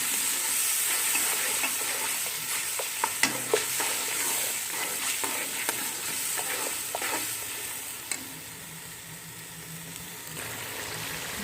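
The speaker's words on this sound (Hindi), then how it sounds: "अब हम 2 से 3 मिनट के भुनेंगे।" Garlic ginger paste fries with browned onions in a pan for chicken yakhni pulao, a steady soft sizzle broken by scattered scraping stir strokes, close up with no talking.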